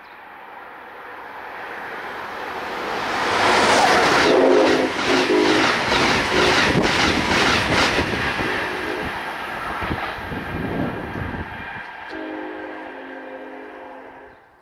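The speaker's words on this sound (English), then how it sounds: "Train approaching." An Amtrak Regional train rushes through Kingston Station at about 125 mph, swelling from a distant rumble to a loud roaring pass with a brief horn, then fading away.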